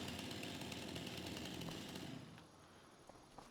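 A chainsaw in the Farming Simulator 25 video game runs loud and steady with a dense buzzing drone, then cuts off partway through, leaving quieter background with a few small clicks.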